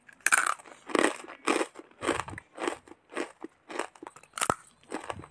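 Repeated loud crunchy bites and chewing of a freshly fried snack, about ten sharp crackling bursts in an uneven rhythm, close up with no talking.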